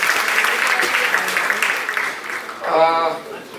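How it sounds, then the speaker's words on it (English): Audience applause at an association event, a steady wash of clapping through most of the clip, with a speaking voice rising over it near the end. "Definitely they need a round of applause."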